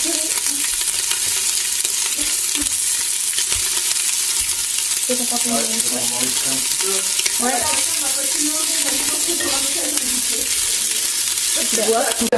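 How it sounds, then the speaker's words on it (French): Meat browning in a pan for Japanese curry gives a steady, loud sizzle throughout, with stirring scrapes and clatter layered on top and no talking. "nous allons mettre toute la viande pour la faire revenir"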